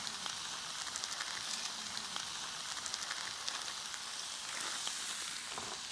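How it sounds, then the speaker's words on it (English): Tomatoes and charred corn frying in a pan, a faint, steady crackling sizzle with small scattered pops, continuous throughout. "we're gonna throw into the pan some tomatoes and fresh or store-bought charred corn"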